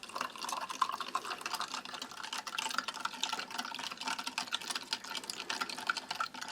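Cold water pours into a glass to mix with a yellow US Army MRE drink powder: a steady, close splashing trickle that runs without pause for several seconds, with no voices.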